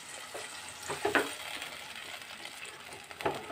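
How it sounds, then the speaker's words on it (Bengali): Curd being stirred into a Bengali-style potato curry in a pan over low flame, with a soft continuous sizzle and scraping stir strokes and a couple of louder utensil clinks. "দইটা দেওয়ার সময় আমি গ্যাসের ফ্লেমটা একদম কমিয়ে দিলাম, দিয়ে সমানে নাড়তে থাকবো।"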